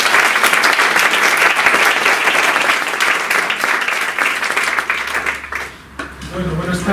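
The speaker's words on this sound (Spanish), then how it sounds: "Un aplauso muy grande para ellos." A conference audience gives a big, dense round of applause for two speakers, loud and sustained for about five seconds before thinning out into a few scattered claps.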